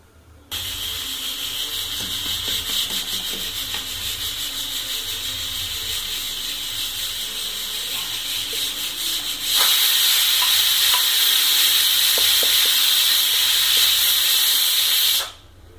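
Steady high-pitched hiss from a pressure cooker cooking chicken curry on high flame, a continuous steam whistle that grows louder and brighter partway through and then cuts off abruptly.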